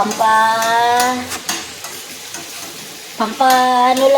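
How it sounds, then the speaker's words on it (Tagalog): Chayote and its leaves sauté in a pan for a vegetable dish in coconut milk, with loud sizzling and brisk stirring, while a voice-like tonal sound rises over it at the start and again at the end. "Ganyan lang yung ginigisa, nilalagyan ng sayote"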